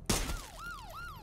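Police car sirens wailing in the zombie video game Dead Island 2, a short burst of breaking glass followed by two falling siren sweeps, moderately distant.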